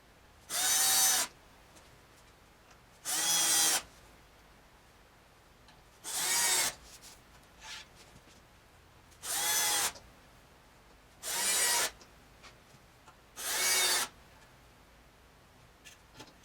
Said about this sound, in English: Here we're drilling and countersinking the screw holes in the HDPE bearing material.